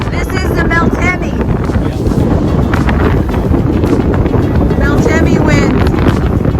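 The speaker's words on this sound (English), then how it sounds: "Meltemi wind." Strong Meltemi wind at sea off Santorini in the Cyclades, buffeting hard and constantly against the microphone on a sailboat among whitecaps, with rushing water and brief voices under the roar.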